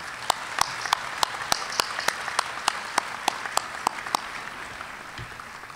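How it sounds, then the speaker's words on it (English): Applause at a university commencement ceremony, with crisp, evenly spaced claps falling in a steady rhythm over a soft crowd wash, then thinning out near the end. "Would you all join me in applauding these platform members?"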